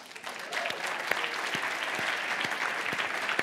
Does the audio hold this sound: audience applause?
yes